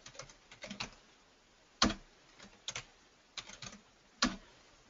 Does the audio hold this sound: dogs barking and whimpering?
no